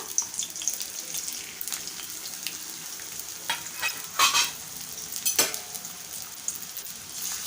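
Finely chopped onion sizzles in hot oil in a pan for a stuffed brinjal dish, a steady close hiss with scraping stirs and a few louder crackling bursts, no talking.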